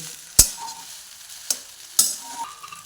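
Soaked sabudana and boiled potatoes get stirred in a hot pan for fasting khichdi, a soft sizzle broken by three sharp spoon knocks against the pan.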